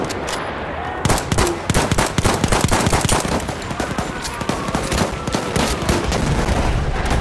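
Sustained automatic machine gun fire in the World War I shooter Battlefield 1, loud rapid bursts crackling almost continuously alongside scattered other gunshots in a chaotic battle.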